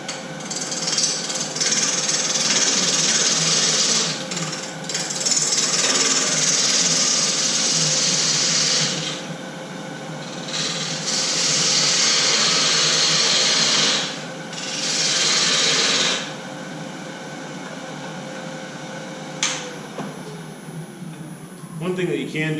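A parting tool cuts into a spinning wood piece on a lathe during a Christmas tree woodturning demo, giving bursts of loud scraping and rasping broken by short pauses, with a faint voice in places.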